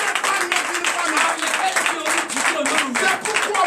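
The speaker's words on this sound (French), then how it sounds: "Mais pourquoi ne pas applaudir les femmes?" A church congregation at a night deliverance service applauds the women, with steady, dense clapping mixed with voices and cheering throughout.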